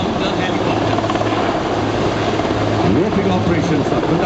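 A military helicopter hovers at an air force open house roping display, a loud, steady rotor and engine roar close by, with crowd noise mixed in underneath.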